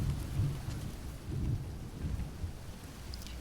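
Rain and thunder from the jungle survival game Green Hell: low rumbling thunder rolls in repeated swells beneath a steady hiss of falling rain, fairly quiet and without speech.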